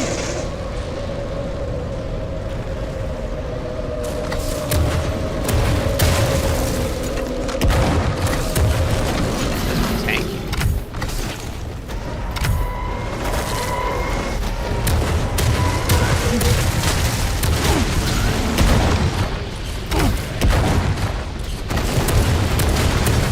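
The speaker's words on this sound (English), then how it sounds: "Rocket launcher, but a bit weaker, I would say." Repeated rocket launcher blasts from Wrath: Aeon of Ruin, loud booming explosions in a dense, continuous run of shots and impacts over a rumbling game backdrop, with no talking.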